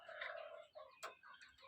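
Hens cluck and call in a henhouse where young chicks mix with the adult birds, several close overlapping voices in a steady, busy run with one sharper squawk partway through.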